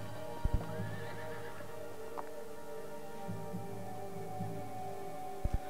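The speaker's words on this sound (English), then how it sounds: "They heard whispers and the sound of a horse in the distance." A horse neighs and hooves clip-clop in the distance at a reported haunted Civil War battlefield, with a low steady hum underneath and a few soft thumps, no voices.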